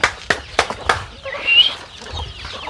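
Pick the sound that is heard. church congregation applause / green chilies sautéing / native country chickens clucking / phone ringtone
native country chickens clucking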